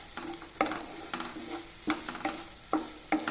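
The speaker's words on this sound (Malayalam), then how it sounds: "എന്നിട്ട് എല്ലാം കൂടെ നല്ലതുപോലെ ഒന്നുകൂടെ ഇളക്കി കൊടുക്കാം" Tomato chutney being stirred in a pan: a soft background sizzle under a series of sharp, evenly spaced scrapes and taps of a spoon against the metal.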